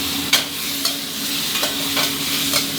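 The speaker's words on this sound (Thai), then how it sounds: "ผัดให้เข้ากันดีเลยครับ" Seafood and holy basil stir-fried in a hot wok, a steady loud sizzle broken by about five sharp scraping strokes of the spatula against the pan.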